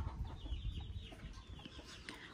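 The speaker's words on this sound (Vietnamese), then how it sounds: "ở đây nuôi gà này. Đó, ở đây gà rất nhiều, gà con này" Farm chickens with chicks on rural land in Phu Giao, Binh Duong, cluck and chatter close by in a busy, overlapping flock, with soft peeping calls scattered through the brief stretch.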